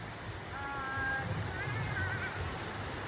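Strong rushing water roars steadily in a broad wash of noise somewhere in Mindoro, with brief faint voices over it.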